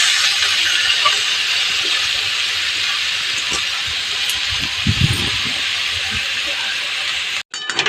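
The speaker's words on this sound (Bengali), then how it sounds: "আলু আর সয়াবিনটা কষানো হয়ে গেছে, এবার এতে বাঁধাকপি দিয়ে দেবো।" Cabbage goes into a pan of fried potato and soybean for a vegetarian ghonto, giving a loud, steady sizzling hiss with a few soft stirring thumps near the end.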